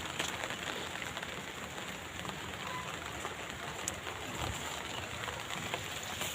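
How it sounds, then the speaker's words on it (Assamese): Steady rainfall patters on surfaces outdoors, an even wash of drops that continues without pause and no voices over it. "বৰষুণ দিছে।"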